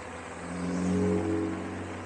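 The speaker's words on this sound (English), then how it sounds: "Still get the road noise from the fat tyres, obviously." Steady low rumble and hum of fat tyres rolling on tarmac beneath an Engwe L20 e-bike, a continuous droning road noise that swells slightly midway, with no talk.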